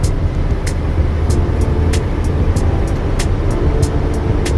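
An Isuzu NPR four-cylinder truck cruises across the Gandy Bridge in South Tampa, giving a steady, loud engine and road drone throughout with a dense low rumble and occasional sharp ticks above it.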